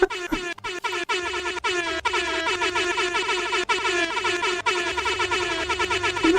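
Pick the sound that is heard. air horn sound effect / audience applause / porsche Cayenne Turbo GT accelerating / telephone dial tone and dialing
air horn sound effect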